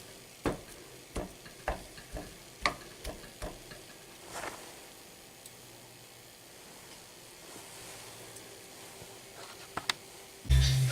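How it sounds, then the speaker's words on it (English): Vegan edamame and kidney bean burgers fry softly in a pan on low heat with a steady hiss, punctuated by sharp clicks and scrapes, ending in a louder clatter. "So I've been frying them on a quarter heat for about 8 minutes."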